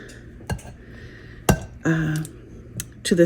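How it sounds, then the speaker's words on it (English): A pastry cutter works butter into dough in a bowl, giving a few sharp, close metallic clinks and scrapes spaced irregularly, with brief quieter gaps between strokes. "a pastry cutter that I'm going to use to get this butter mixed into this"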